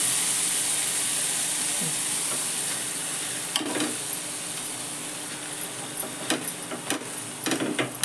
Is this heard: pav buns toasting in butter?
yes